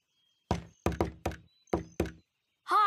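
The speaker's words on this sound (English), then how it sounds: "Let's knock." Five solid knocks on a door in a cartoon, close and resonant, two quick ones then a pause and three more, followed by a sharp tonal sound at the end.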